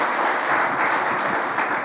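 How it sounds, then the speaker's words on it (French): Steady applause from an audience at a public presentation on collective intelligence and the city of tomorrow, a dense, even wash of clapping with no breaks, fairly loud and sustained. "À vous la parole, on les applaudit."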